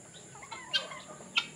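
Fowl on a small farm keeping turkeys, guineafowl and heritage chickens, with young three-month-old chickens nearby, give two short, fairly faint calls against a quiet outdoor background.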